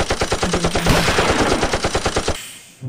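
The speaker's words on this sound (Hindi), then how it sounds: "ये देखो फायरिंग कर रहा है मेरे ऊपर गाइस।" Rapid automatic gunfire from the video game Free Fire, a loud sustained burst of evenly spaced shots that runs for over two seconds and then abruptly stops.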